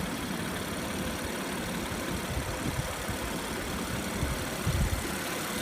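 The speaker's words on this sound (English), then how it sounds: "Very impressive engine." A 2016 Audi A7 Prestige S Line with the 3.0T engine idles steadily, a dense, even hum and low rumble that holds at a constant level throughout with no voices.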